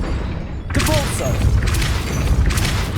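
A Depulso spell fires in Hogwarts Legacy with a sudden forceful blast, followed by rumbling impact bursts and swirling magical effects, with a voice briefly heard beneath.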